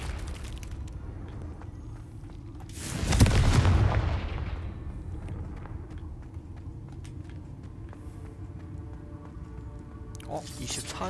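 A Confringo spell in Hogwarts Legacy detonates with one booming explosion and a rumbling tail, heard over ongoing game ambience with speech around it.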